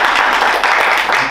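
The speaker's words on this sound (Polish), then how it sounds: "Brawa dla córki wszyscy razem." A crowd applauding steadily at a school year-end ceremony in Olsztyn, dense clapping filling the short stretch at a loud, even level.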